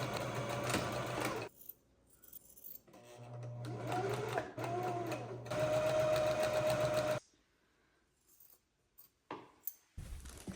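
Sewing machine stitching around the edge of a quilted fabric Christmas bow, running in several loud bursts with short pauses between them, then stopping, followed by a few faint clicks and handling sounds.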